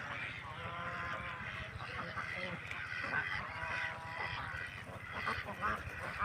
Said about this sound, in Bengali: আর সাথে আছে রাজহাঁস। দেখুন কি সৌন্দর্য রাজহাঁসগুলো।